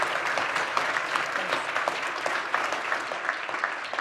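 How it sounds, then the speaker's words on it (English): Audience at an induction ceremony applauding steadily, a dense patter of clapping hands throughout with no voices over it. "So everyone, if you please would join me in giving a round of applause to Maha Jweied."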